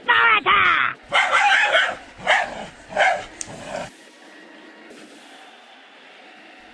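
Small dogs yap and yip in several loud, rapid bursts in the BattleBots video game, then fall off into a faint, low hum.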